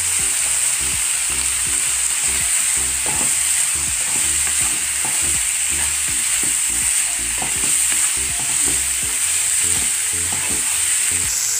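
Mushrooms with garlic sizzle steadily in a hot pan while a spoon stirs them, sounding as a constant close frying hiss with repeated soft scraping strokes and no voices.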